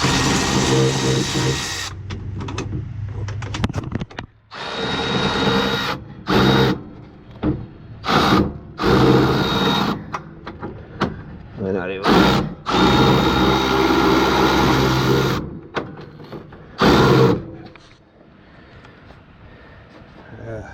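Power drill running in repeated bursts while removing fasteners from a generator infested with ants, whirring loudly in short stop-start runs with brief pauses between, close by.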